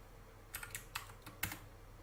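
Several quick computer keyboard keystrokes while entering a command in an Octave programming session, clustered in a short burst of clicks, close and fairly quiet, with no talking.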